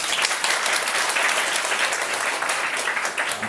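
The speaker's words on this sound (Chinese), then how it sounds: "然后大家热烈掌声。" An audience claps warmly as a speaker is introduced at a screening event: dense, even applause that holds steady from start to finish.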